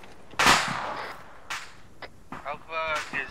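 Sporadic gunfire in a military combat video game, a few sharp cracks and snaps spaced irregularly across the moment, fairly close and moderately loud, with no talk over them.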